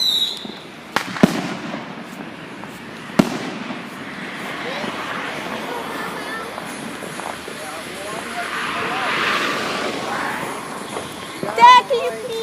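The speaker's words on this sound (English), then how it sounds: "can you please light off a firework?" Backyard fireworks going off outdoors, with a few sharp bangs and crackles near the start and a crackling burst near the end, under ongoing chatter from nearby people.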